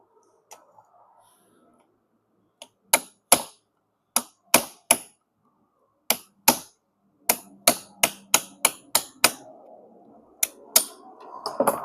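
Sharp hammer blows knock a part out of a Samsung washing machine spin motor with shorted aluminium windings, spaced unevenly at first, then falling in a quicker steady run, loud and close, with faint workshop rustle underneath.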